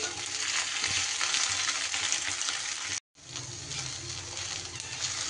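Cornflour-coated okra fries in oil with a loud, close, unbroken sizzle, briefly cut off near the middle before resuming.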